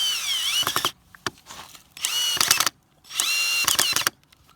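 Cordless 12V drill-driver driving a self-tapping screw, three loud whirring bursts of about a second each, with short pauses between them and ratcheting clicks as the screw stops.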